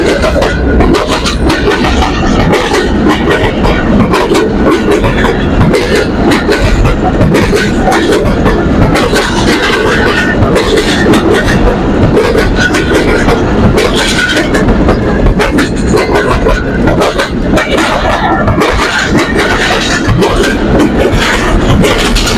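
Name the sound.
train passing a level crossing at Lundo railway station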